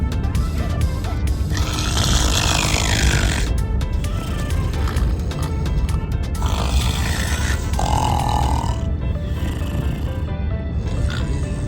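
A person imitates snoring with loud, rough, grunting snorts that rumble on without a break, close and harsh, mixed with some vocal noise.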